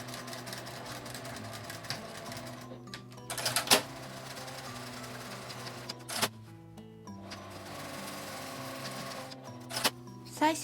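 A sewing machine runs in bursts, stitching vertical divider seams through William Morris print fabric for a small cosmetic bag, with short pauses and clicks between runs and a steady hum underneath.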